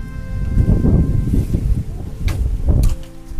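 Wind gusts outdoors at the foot of Mount Isarog, beside a hut under construction, a steady low rumble with stronger surges partway through and near the end.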